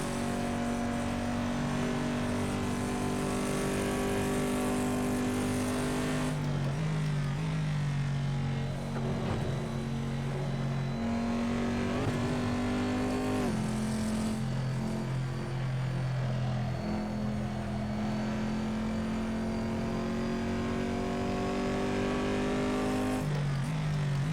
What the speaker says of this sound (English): I love the reverb of the exhaust. You have walls around you and stuff.